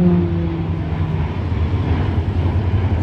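A warbird aircraft flies at the Warbirds Downunder 2024 air show with a loud, steady engine drone that holds without a break for the whole moment, with no voices.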